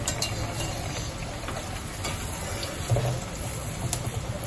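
Adhirasam, a traditional sweet, frying in oil on a medium flame, giving a soft continuous sizzle and bubbling with occasional stirring clinks, close by and without speech.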